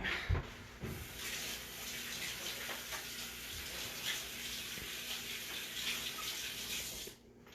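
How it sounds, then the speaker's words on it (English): Tap water runs steadily into a sink as hands are washed, a close, continuous hiss lasting about seven seconds before cutting off abruptly. "I'm going to just quickly wash my hands"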